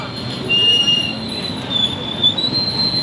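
A train passing on nearby railway lines, with wheels squealing in high, drawn-out tones over a steady rumble, close and loud throughout.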